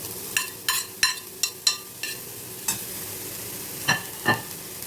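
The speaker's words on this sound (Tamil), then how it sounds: "இப்போ நம்ம இந்த வெங்காயத்தை இதுக்குள்ளேயே சேர்த்து விட்டுடுவோம் வெங்காயம் பூண்டு" Onion and garlic being sautéed in a pan, with a spatula stirring and scraping in short, uneven strokes over a soft, low sizzle. The strokes come close and fairly clear, with no talking.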